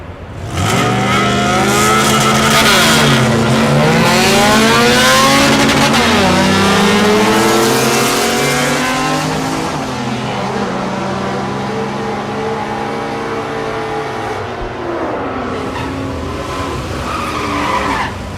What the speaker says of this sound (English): Shane Wilson in the right lane. Shane the Integra.